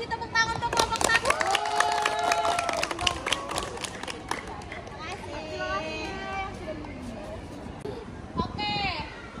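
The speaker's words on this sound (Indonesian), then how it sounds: "tepuk tangan untuk kelompok 1" Scattered clapping from a small group in a classroom workshop, mixed with overlapping voices and a few cheers that fade as the clapping thins out.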